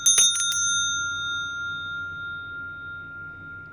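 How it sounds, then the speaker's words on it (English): A small hand bell is struck several times in quick succession, bright and close, then its clear metallic tone rings on and slowly fades into near silence. "I'm going to ring the bell to clear the air."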